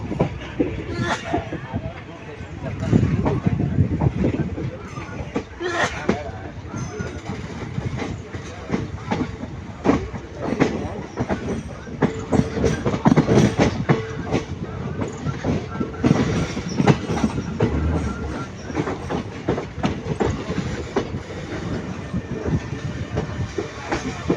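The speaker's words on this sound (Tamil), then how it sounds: "கரெக்டாக எட்டு மணிக்கு வந்துருச்சுங்க வண்டி ஈரோடு ஜங்ஷன்" A passenger train on the Karur to Mangalore line runs steadily on the rails with continuous rumble and clickety-clack of wagons, some wheel squeal, and a faint murmur of onboard chatter throughout.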